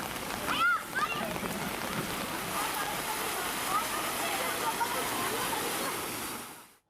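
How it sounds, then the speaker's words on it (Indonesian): Heavy rain pours over the capital during a nearly hour-long downpour that floods Jalan Nusa Indah in Duren Sawit, a dense, constant hiss of water drumming on surfaces, loud and close, fading out at the end. "Hujan deras yang menerjang ibu kota selama hampir 1 jam membuat jalan Nusa Indah Duren Sawit terendam."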